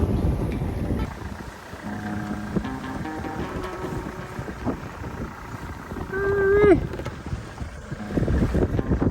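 Steady wind and water rush aboard a sailboat under sail overnight off Mexico, a continuous loud roar with gusts, a brief creaking whine near the end and a voice faintly underneath.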